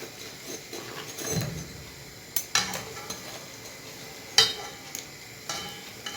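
Çiğ börek pastry fries in hot oil with a soft, continuous sizzle, punctuated by several clinks and scrapes of a utensil against the pan.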